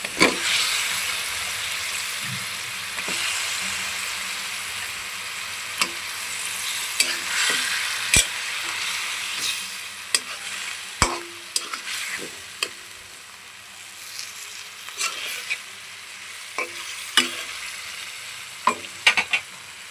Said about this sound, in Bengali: এখানে আমার মাছটা ভালোভাবে কষানো হয়ে গেছে